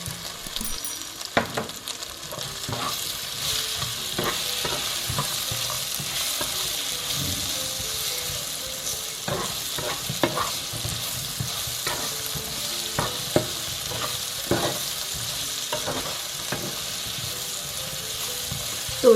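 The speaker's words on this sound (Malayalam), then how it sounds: "അതുകൂടെ ഇതിനകത്ത് ചേർത്ത് കൊടുത്ത് നമുക്കൊന്ന് വഴറ്റിയെടുക്കാം." Sliced ripe plantain sautéed in a pan, giving a steady sizzle broken by frequent scraping strokes of a spatula against the pan, close and moderately loud with no talking.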